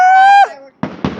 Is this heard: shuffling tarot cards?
no